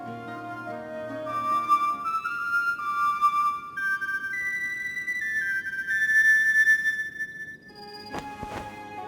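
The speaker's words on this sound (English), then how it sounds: "It's a bone whistle." In the video game Masquerada: Songs and Shadows, a bone whistle plays a slow melody of sustained, pure notes that step upward over quiet background music. A few sharp percussive clicks come at the end, and nobody speaks.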